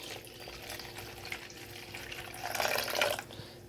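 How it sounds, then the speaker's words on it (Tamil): Water poured into a clay pot for a Nagercoil-style rock fish curry, a soft splashing fill that grows louder near the end of the pour, with no talk. "அதுக்கப்புறவு நமக்கு தேவையான தண்ணி கொஞ்சம் ஊற்றுறோம்."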